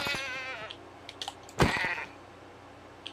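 In Minecraft, a goat gives a short, close bleat as keyboard clicks tap around it. A sharp hit lands in the middle, and a quieter pause follows.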